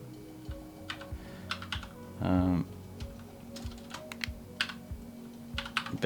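Scattered keyboard keystrokes clicking at an irregular pace, with a brief low hum midway; quiet and close.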